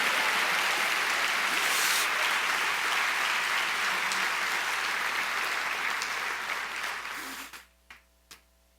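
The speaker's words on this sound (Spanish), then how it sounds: "Dele un aplauso mejor al Señor." A church congregation claps in sustained, full applause that carries on for several seconds, then fades quickly to near silence with a couple of faint knocks at the end.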